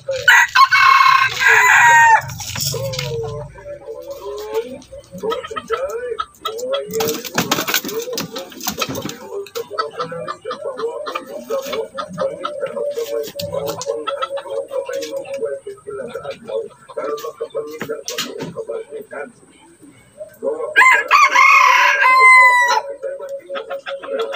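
Wild jungle fowl (labuyo) roosters crowing loudly at the start and again near the end, with steady clucking and chatter between, under ongoing talk close by.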